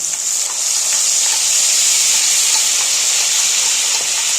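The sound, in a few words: spice paste of onion, pepper, chilli, garlic added to hot pan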